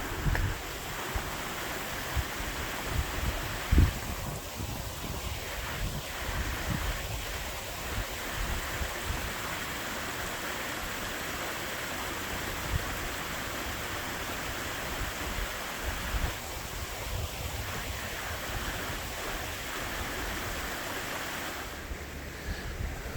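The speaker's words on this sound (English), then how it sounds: "All this water running kind of in the background of my talking here" Water running at Deer Creek Reservoir in Ohio gives a steady, even rush of broadband noise that holds throughout, fairly close, with light wind buffeting and no voices.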